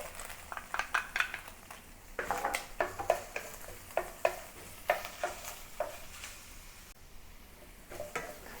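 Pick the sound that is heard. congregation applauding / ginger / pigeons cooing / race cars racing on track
ginger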